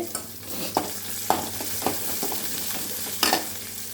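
Cumin, onion and dried red chillies sizzle in hot oil in a pan, with a steady frying hiss broken by several sharp spatula scrapes; no voices.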